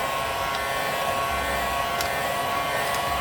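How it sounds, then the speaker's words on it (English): A heat gun on its low setting blows a steady, even rush of air as it shrinks wrap around a sublimation mug. The sound is close and continuous for the whole stretch, with no talking. "I usually shrink wrap with my heat gun on the low setting"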